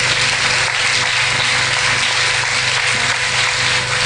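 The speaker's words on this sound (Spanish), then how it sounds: "Dele un aplauso al Señor." Church congregation applauding, a loud steady wash of clapping that continues without break, with a faint low hum beneath it.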